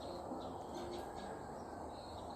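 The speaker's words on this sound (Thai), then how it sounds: "เสียงนักร้องจิ๊บจิ๊บ" Faint birds chirp and tweet in short, scattered calls over a soft outdoor background hum, with no one speaking.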